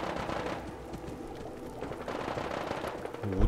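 Rapid gunfire in the video game Fallout 4, dense overlapping shots in a continuous burst, with a low rumble toward the end.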